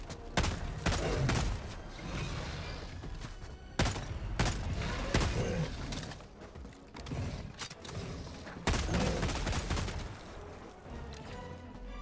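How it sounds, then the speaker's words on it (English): Jar 5 gun firing in a video game, loud bursts of rapid shots separated by pauses, with mechanical creaks and thumps in between, close and punchy. "I am pissed they changed the sound of the freaking Jar 5"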